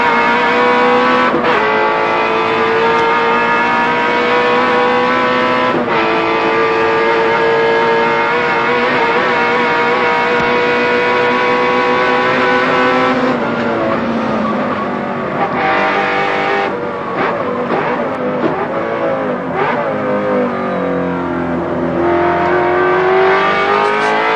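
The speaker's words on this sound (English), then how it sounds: "Just listen to that awesome V8." A roaring V8 race car engine screams at high revs throughout at the 1991 Bathurst 1000, pitch rising and dipping through gear changes, loud and continuous with no voices.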